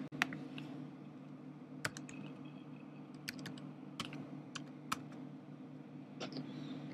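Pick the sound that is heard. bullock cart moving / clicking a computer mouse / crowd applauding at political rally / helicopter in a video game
clicking a computer mouse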